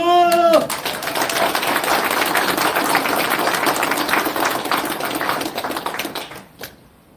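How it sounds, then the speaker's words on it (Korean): Applause at the opening of a Pohang mayoral candidate's campaign office: dense, steady clapping from a crowd fills the room after a brief voice at the start, sustained for several seconds before fading out at the end. "박수!"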